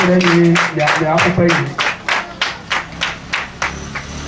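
At a ceremony for a P.E.B.Co-BETHESDA agency in Ouesse, a voice speaks at first, then rhythmic, evenly spaced clapping takes over, sharp and close, with the beats slowly spacing out.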